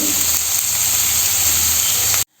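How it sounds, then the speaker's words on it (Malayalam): Chopped onions sizzling in hot oil with mustard seeds, a loud close steady hiss that carries on without a break and then cuts off abruptly, with no voices. "ഇനി 2 സവാള അരിഞ്ഞിടുക"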